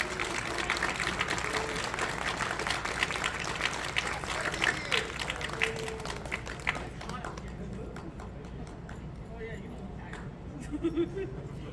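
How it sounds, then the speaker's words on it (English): Audience applause at a staff award ceremony for service award recipients, a broad wash of clapping that holds steady and fades slightly toward the end, with talk mixed underneath. "round of applause for our Exceptional Service Award recipients"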